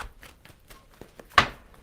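Tarot cards are shuffled by hand, giving a few faint, scattered taps and then one sharper, louder riffle of cards close by in a quiet room.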